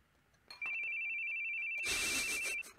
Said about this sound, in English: Come on, the phone again.